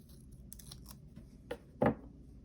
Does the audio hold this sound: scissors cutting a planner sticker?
yes